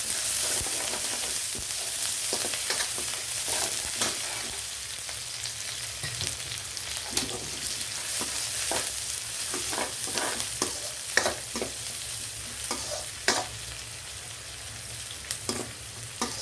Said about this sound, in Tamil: இந்த மாதிரி செய்கிறதுக்கு வெங்காயம் கொஞ்சம் நல்லா வதங்கணும்